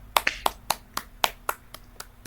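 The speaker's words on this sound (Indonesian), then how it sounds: "Boleh tepuk tangan untuk kita semuanya hari ini." A short burst of uneven handclapping from a group in an Indonesian classroom during a peer-teaching lesson, about ten sharp, close claps over two seconds, fading toward the end.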